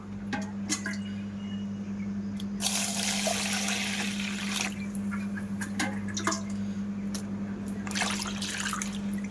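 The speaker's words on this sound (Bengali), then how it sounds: "এবার আমি ভালো করে পরিষ্কার করে জল দিয়ে ধুয়ে নেব" Small-grain sago pearls being washed clean in water, with steady close sloshing and swirling of liquid and scattered drips throughout, over a constant low background hum.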